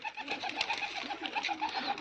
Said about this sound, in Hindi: अभी देखो सब आएंगे कबूतर चना चुभने के लिए, अभी सब आएंगे।